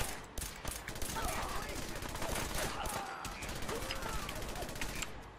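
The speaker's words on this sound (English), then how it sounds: "The trick is to shoot the scavengers without hitting any of the crew that are down there." Gunfire crackles in Fallout 4 as scavengers are shot while trying to board an airship, with rapid bursts and scattered shots over a busy mechanical game background.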